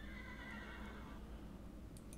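A horse in a crafting and survival video game neighs loudly and close up, a drawn-out whinny fading toward the end with a couple of faint clicks, heard alone without any talk.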